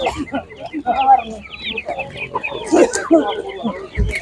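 Several young chickens cluck and squabble nearby in a busy, continuous chorus at an animal market, with people talking in the background.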